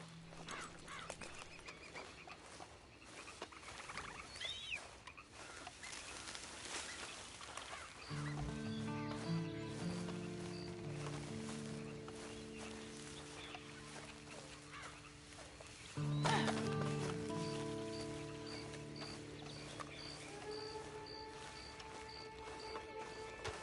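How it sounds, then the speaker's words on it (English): Horse hooves clip-clop at a steady walking rhythm in a video game, close and moderately loud, layered over a tonal musical drone that swells partway through. "And you better get on this horse."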